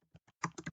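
Python code is typed on a computer keyboard in a few quick, close keystrokes: isolated taps first, then a tighter burst of clicks, with nothing else heard.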